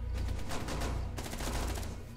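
Rapid bursts of video game gunfire crackle continuously, dense automatic shots at moderate distance, fairly quiet overall with no voices.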